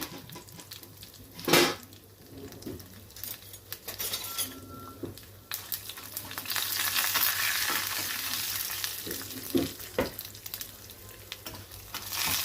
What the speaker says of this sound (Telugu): మినపప్పు, శనగపప్పు, ఆవాలు, జీలకర్ర, తర్వాత 2-3 ఎండుమిరపకాయలు వేసుకున్నాను. వేసుకొని పోపు వేసుకోవాలి.